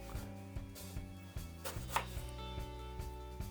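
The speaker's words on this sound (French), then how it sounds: "je vais les couper en lamelles d'environ 1 mm d'épaisseur" Apples, halved and cored, get sliced into thin slices about 1 mm thick with a knife for an apple tart, a quick series of soft, evenly spaced cutting taps against a board.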